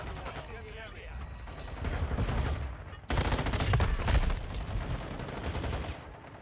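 An LMG in Modern Warfare 2 sends sustained bursts of automatic gunfire, loud and continuous, intensifying sharply partway through, with a player talking over the shooting.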